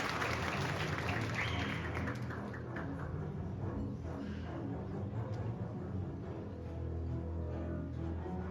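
Audience applause during a live music performance, a dense steady wash of many hands clapping that carries on throughout at moderate level, with no talk over it.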